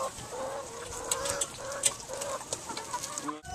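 Hens cluck repeatedly on a small farm, short rhythmic clucks and calls near at hand with softer bird sounds in the background and no talking.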